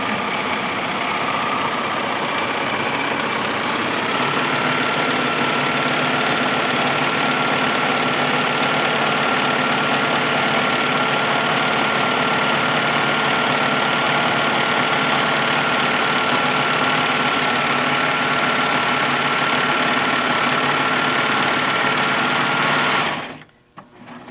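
A serger sewing machine stitches stiff placemat fabric, a steady close whirring motor hum that runs without a break for over twenty seconds and then stops abruptly, with no talking.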